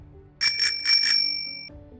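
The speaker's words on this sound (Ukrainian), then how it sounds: "та навіть велосипед." A bicycle bell rings with quick bright trills in two short bursts, its metallic tone lingering and fading afterward.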